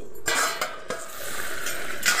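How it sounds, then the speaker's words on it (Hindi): Saloni is stirred in a cooking pot with a utensil, giving a couple of brief close scrapes and clinks over a soft steady background hiss. "तो इसको हम एक बार चला देंगे,"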